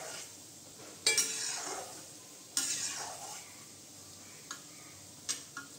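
Gulab jamun fry gently in oil over low heat, a soft steady sizzle broken by several distinct scraping clinks of a spoon or ladle stirring against the pan, fairly quiet and close, no talking.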